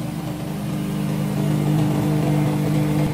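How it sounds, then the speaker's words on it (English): A VIGORUN VTW550-90 radio-controlled wheeled grass cutter runs steadily while mowing, its engine giving off a continuous, loud, even drone with a constant low hum and no pauses. "Then you can start mowing now."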